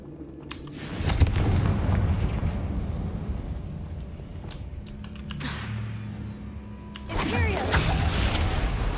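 In the video game Hogwarts Legacy, the Confringo explosion spell goes off in sharp, booming bursts over a rumbling ambience, with a fresh blast and crackle near the end.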